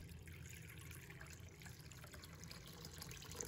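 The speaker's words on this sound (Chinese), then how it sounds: "倒入清水" Water is poured into a bowl of thinly sliced pork, giving a faint, continuous splashing trickle with no voices.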